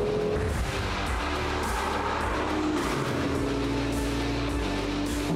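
A car runs flat out near 190 km/h on the Saint-Eustache autodrome, its engine and road roar a loud, continuous drone from inside the cabin with no talk.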